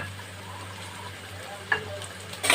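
Soybean chunks fry in white oil in a pan, a soft steady sizzle with a low hum beneath, punctuated near the end by a couple of brief clinks or stirring clatters.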